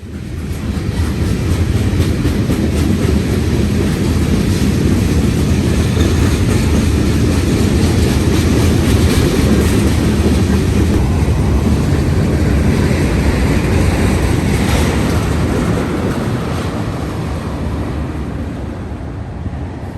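Train number 179 passes on the rails heading west, a loud, continuous rumbling roar that holds steady and eases slightly toward the end, with no voices.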